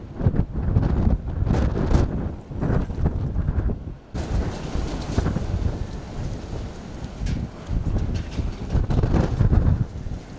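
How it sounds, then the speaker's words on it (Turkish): Strong wind in Nevşehir, Turkey, roars and buffets the microphone in a loud, continuous gusty rush, with no talking. "Şiddetli rüzgar hayatı olumsuz etkilemeye devam ediyor."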